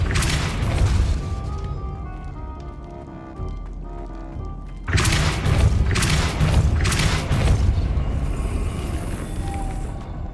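Booming magical blasts from the Expulso spell in a Harry Potter video game, loud and percussive, with a sudden heavier burst midway followed by repeated crashing impacts over a continuous game soundscape.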